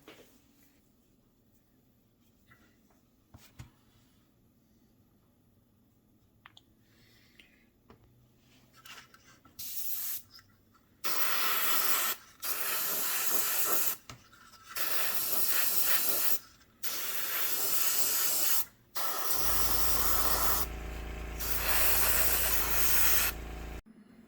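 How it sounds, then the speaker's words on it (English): Quiet room sounds at first, then repeated bursts of airbrush spraying AK red primer into a Tiger I tank model hull: several hissing sprays of a few seconds each, separated by short pauses, close and loud. "I'm going to spray some AK Primer Red down in here"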